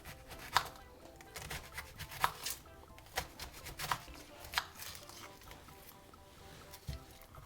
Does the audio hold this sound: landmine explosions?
no